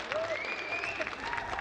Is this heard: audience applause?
yes